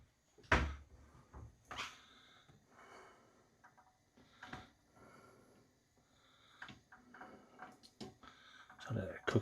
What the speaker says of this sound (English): find a squeaky cupboard.